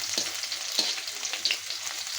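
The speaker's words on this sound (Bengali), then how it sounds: "আমি এখন বাগারের জন্য দিয়ে দেবো শুকনো মরিচ, দিয়ে দেবো স্বাদ মতো রসুন" Dried chili and garlic fry for a tomato chutney tempering, giving a steady close hiss and sizzle with a few sharp crackles and pops over about two seconds.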